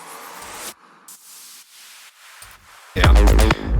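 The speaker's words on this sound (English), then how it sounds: "here we have just some simple effect sound, like white noise," White noise risers and downlifters in a techno track sweep up and down in short bursts, with gaps between, ending in a loud full burst of noise mixed with rhythmic synth texture.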